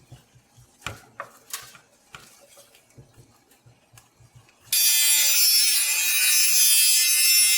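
Cheap cutoff wheel slicing metal on a Tri 5 Chevy build: a few sharp scraping and clanking knocks, then a loud, sustained high-pitched grinding screech that starts abruptly and runs to the end.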